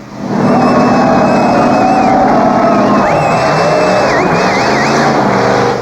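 A car engine roars loudly and continuously at about 5,000 RPM, with its water hose cut, oil drained and sand inside. Its pitch rises and wavers as it revs hard, close up with a faint crowd underneath.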